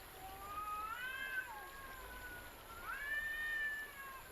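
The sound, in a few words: cats caterwauling in victory, audiobook sound effect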